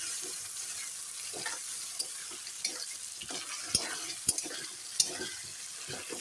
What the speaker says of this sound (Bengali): মশলাটা এখন দেওয়া হয়ে গেল ভালো করে কষিয়ে নেব